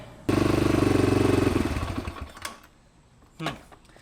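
A small dirt bike engine, a Kawasaki KLX 110L with the choke off, putters loudly, then sputters and stalls within a couple of seconds, followed by quiet with a few clanks.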